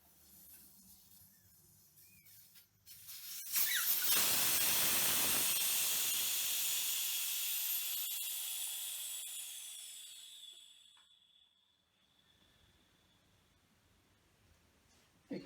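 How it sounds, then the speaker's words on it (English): Air rushes out of a tyre with its valve pulled, a loud, bright hiss that starts abruptly, holds strong for several seconds, then thins and fades away, leaving near silence. "Next exercise is to deflate this tyre completely. I'll do that by pulling the valve out."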